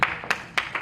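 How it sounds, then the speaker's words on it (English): A single person claps slowly at a gala, four separate claps spaced unevenly apart with quiet room tone between them. "please, it's only one person clapping"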